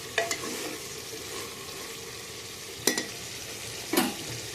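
Stuffed brinjal curry being stirred in a pot: a soft simmering sizzle underneath, with three sharp scraping clinks of a spoon against the pot spread apart, quiet and close, with no talk.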